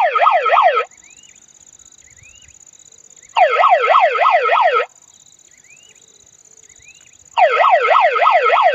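A homemade wild-animal deterrent device's loud electronic siren wails in rapid rising-falling sweeps, cutting out between bursts while a faint chirping tone continues underneath.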